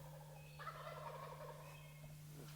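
A wild turkey gobbler in spring in Pennsylvania gives one rolling gobble at moderate distance, over a steady low hum with no talking.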